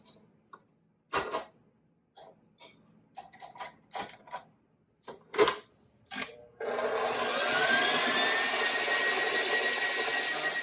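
An electric mixer whirs on high speed, beating egg yolks in a bowl. It starts suddenly after a series of short clatters and knocks, then holds a loud, steady whine with a slight upward pitch sweep.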